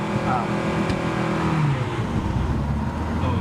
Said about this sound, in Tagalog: Ingay ng makina.